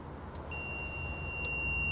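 A voltage sensor's audible alarm sounds as a thin, steady high-pitched tone that starts partway in and holds over faint background noise, with a couple of brief clicks.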